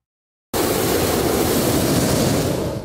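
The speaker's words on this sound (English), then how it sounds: "That is the sound of a hot air balloon starting to take flight." A hot air balloon burner lifts off on a chilly day with snow on the ground. After a brief silence, it roars in as a loud, steady, broadband whoosh that stays close and constant.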